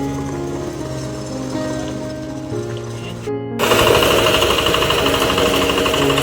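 A tractor engine chugs with rapid, knocking pulses while puddling a muddy rice field, loud and close, briefly cutting out before returning harsher and rougher.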